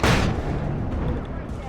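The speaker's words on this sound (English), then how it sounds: "Flashbang." A flashbang detonates in the video game Alan Wake: a loud, sharp burst at the start that fades into a dense, rumbling tail.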